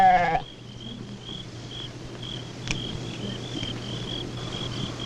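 Goats bleat in open Somali pasture, one loud near call at the start, then a quiet outdoor background with insects buzzing faintly.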